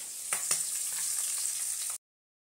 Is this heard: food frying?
yes